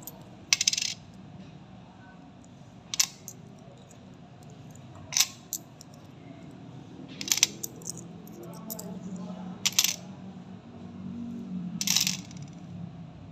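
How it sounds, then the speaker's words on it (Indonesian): Coins, a 500 rupiah piece and a 100 rupiah piece among them, drop onto a weighing-scale sensor in a series of sharp metallic clinks, spaced a couple of seconds apart, close and clear over a faint background hum. "Selanjutnya koin 500-an ditambah koin Rp100."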